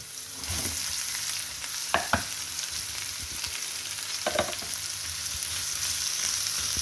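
Onions and curry leaves sautéing in a pan for duck roast, a continuous soft sizzle with a few sharper stirring clatters near the start and middle, no voices.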